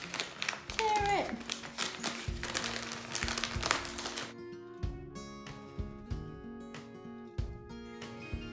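Wrapping paper is torn and crinkled off a birthday present in close, busy rustling bursts while people talk, then the rustle gives way to music.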